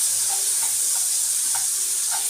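A garlic clove frying in a pan used for Egyptian koshari, giving a steady soft sizzle with a few faint stirring scrapes, close and without talk.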